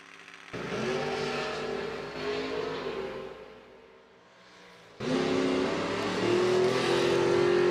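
Drag racing pool truck and Chevrolet S10 launch off the line, engines roaring loudly with a brief lull, then another surge of hard revving that climbs in pitch as the trucks accelerate away.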